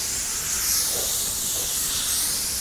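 A spray gun laying clear coat onto a car panel, a steady close hiss of atomized spray that holds evenly through the whole stretch.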